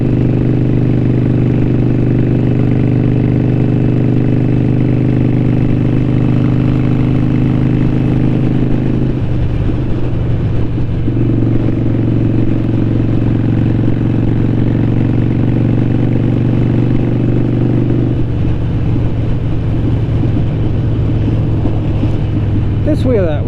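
A Harley-Davidson 883 Iron motorcycle engine idles steadily with a lumpy, pulsing beat, loud and close, briefly dipping mid-clip before settling back into its rhythm.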